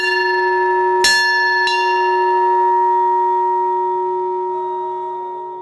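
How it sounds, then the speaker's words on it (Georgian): A single church bell strikes loudly near one second, followed by a second stroke, then a long ringing hum that slowly decays alone with no voices. "ზარს კი ისევ თავად დარეკავს"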